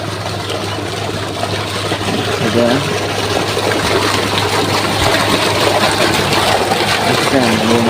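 A water pump motor runs in a village farm field in the haor wetlands, drawing water. Its loud, steady mechanical drone and rushing water hold constant throughout, close by, with no speech.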